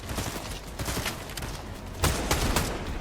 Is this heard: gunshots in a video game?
yes